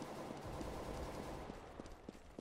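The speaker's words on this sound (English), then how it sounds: "Are you just shooting randomly, or is you shooting something?" Rapid gunfire in the video game CS:GO on the Overpass map, with a steady spray of shots and sharp cracks layered in busy game noise, loud and close throughout.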